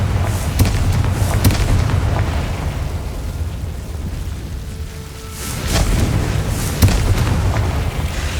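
A fiery spell explosion in the video game Hogwarts Legacy: loud, rumbling bursts with sharp cracks at the start and again near the end, easing into a dull roar between them.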